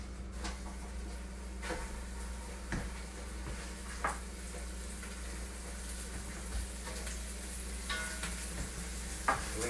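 Short ribs searing meat side down in a hot Dutch oven, a steady close sizzle and frying hiss with occasional sharp crackles and pops over a low stovetop hum.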